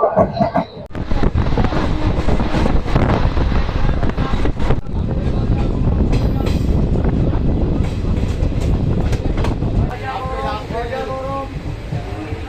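The Hazarduari Express pulls into Jiaganj railway station with loud, rumbling wheel and carriage noise and rattling clatter close by. People speak over it, and the din eases toward the end.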